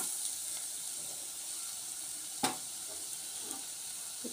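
Chili powder is stirred into bitter gourd curry in a pan, a quiet steady sizzle with soft occasional stirring scrapes and one sharp clink from the spoon partway through.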